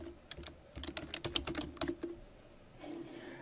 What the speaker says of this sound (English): I'm going to go ahead and type learning objectives.